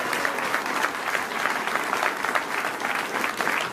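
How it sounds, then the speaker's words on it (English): Sustained applause from a crowd, steady and dense clapping throughout with a faint murmur of voices underneath. "another round of applause"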